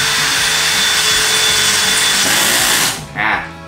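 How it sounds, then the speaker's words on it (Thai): A power drill drives screws into a wood-pattern ceiling panel, giving a loud, steady, close whine that stops abruptly near the end, followed by a short second burst. "หลังจากนั้นนะครับยิงสกรูนะครับ"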